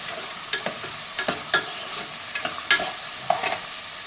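Peas sautéing with eggplant in a pan for vangi bath, a soft background sizzle broken by irregular spoon stirs and scrapes, close and moderately loud, with no voices.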